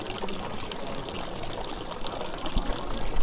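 Water pouring from fountain pipes in Rothenburg ob der Tauber, Bavaria, a steady rushing splash heard up close in an outdoor town square.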